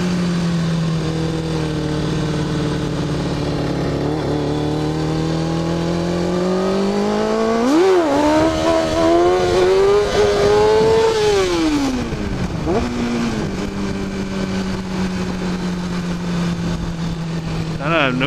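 A motorcycle engine revs hard during wheelie practice on a street, holding a steady idle drone that climbs into a loud, rising roar, falls back and surges again before settling, close and continuous.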